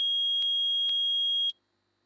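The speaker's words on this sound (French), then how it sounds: "le détecteur de métaux a trouvé quelque chose" A video game metal detector in Phoenix Wright: Ace Attorney gives three sharp electronic beeps, evenly spaced about half a second apart, high-pitched over a steady tonal hum, then silence.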